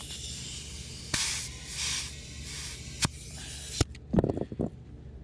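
Air hisses in several short bursts into a riding mower tire, each spurt loud and close, separated by brief pauses, followed by a few clicks and handling knocks.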